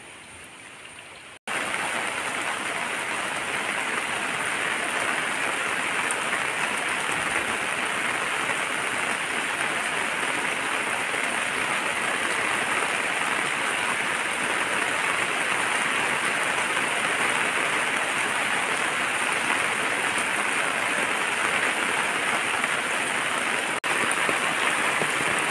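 Steady rain pours down in a village setting, a dense, even hiss of drops that starts abruptly and then holds constant and loud for a long stretch, with no voices.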